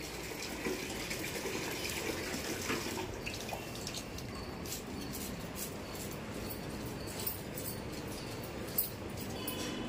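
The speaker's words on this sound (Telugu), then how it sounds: "ట్యాప్ ఆపేసి" Water runs steadily from a tap with a continuous hissing splash and small drips, moderately loud and unbroken, with no voices.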